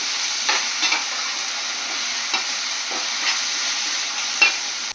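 Ginger garlic paste and green chili paste fry in a pan for Thalassery chicken biryani, giving a loud continuous sizzle with several soft scraping stirs running through it, and no voices.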